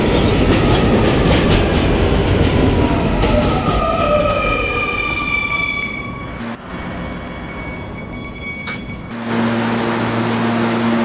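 An R220 subway train on the 11 line rolls along the rails, a steady loud rumble with clickety-clack and rising electric motor whine, easing off briefly before a sustained tone returns near the end.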